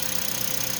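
A Toyota Vios engine idles steadily after being restarted following three months unused, giving a close, continuous low rumble with a faint rhythmic pulse.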